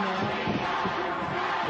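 A wrestling arena crowd at the Dort Marine cheers for Nikita Koloff during a 1988 TV title match, a dense, steady roar of many voices with shouts rising out of it.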